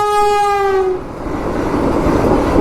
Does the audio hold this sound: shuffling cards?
no